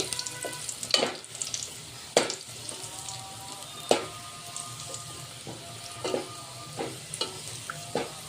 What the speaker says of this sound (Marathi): थोडे हे हलके तळून घ्यायचे 2 मिनिट.